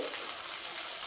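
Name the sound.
pointed gourd filling frying in hot oil in a wok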